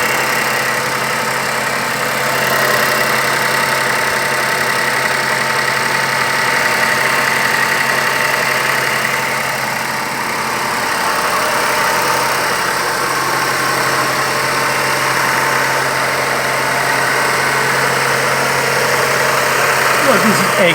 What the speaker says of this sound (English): now the engine is getting hotter, so the idle is going down to normal.